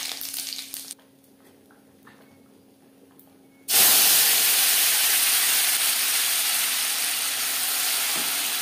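Cumin seeds and dried chillies dropped into two spoons of hot refined oil, a faint hum, then a sudden loud steady sizzle that keeps going.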